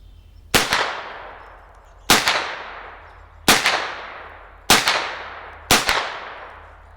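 Five sharp gunshots from a pistol caliber carbine, fired one at a time about a second apart, each loud close report ringing off into a long decaying echo, with no talking.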